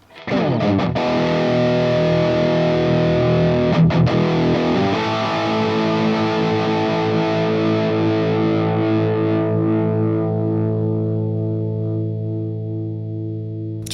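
A heavily distorted electric guitar chord through an amp plugin with a noise gate rings out loud and sustained, with a second strum partway through, then slowly fades.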